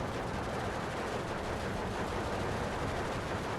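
An IS-2 tank gun fires APCR shot in the video game Steel Division 2, set amid a steady, dense roar of battle gunfire that stays loud and unbroken throughout, with no speech.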